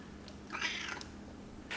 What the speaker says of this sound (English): Here comes TU Cat.